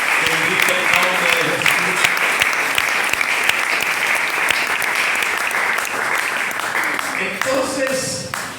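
Church congregation applauding the Lord during a Spanish-language service, a dense, sustained burst of clapping from a sizable crowd that carries on steadily at close range and begins to thin toward the end.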